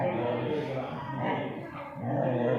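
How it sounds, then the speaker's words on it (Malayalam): A pet dog barks and yips on command while a voice keeps urging it on. The barks are close and mixed with the talking. "ഹീറോ കുരയ്ക്ക് കുരയ്ക്കടാ കുരയ്ക്ക്"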